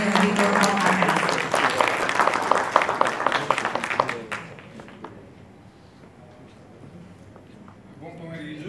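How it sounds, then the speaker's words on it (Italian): Audience at an Italian conference on AIDS and COVID claps in a dense burst for about four seconds, then the applause dies away to a quiet room with faint movement. "Lo accogliamo con un applauso"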